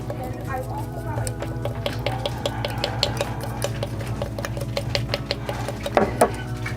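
Orajel is stirred together with baking soda, giving close, soft scraping and small ticking clicks from the utensil in a steady rhythm, with a voice faintly underneath.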